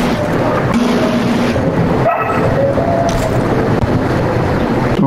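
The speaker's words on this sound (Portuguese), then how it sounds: "Agora tem um cachorro" A dog in the video game Call of Duty Warzone 2.0 gives short yips and barks within dense game ambience, with engine-like droning and other effects filling the background.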